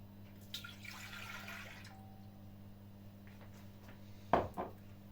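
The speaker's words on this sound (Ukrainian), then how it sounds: "Вимиваємо сюди 350 мл молока." Warm milk, about 350 ml, is poured into a baking dish for nut buns: a brief, soft liquid pour near the start, then a quiet pause and a single clunk near the end, all faint and without talk.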